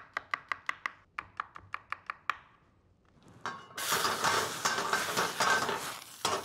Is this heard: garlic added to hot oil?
yes